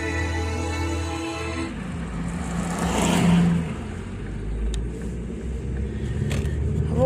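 Steady engine and road rumble from inside a moving car, a low continuous drone that swells briefly in the middle as the car accelerates, then settles back to an even cruise.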